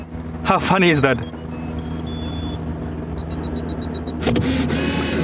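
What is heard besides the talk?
Canon EOS 35mm film camera self-timer beeping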